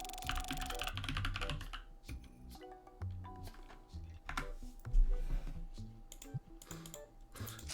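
Rapid, uneven keystrokes on a computer keyboard clatter up close while a message is typed out, with brief pauses between bursts.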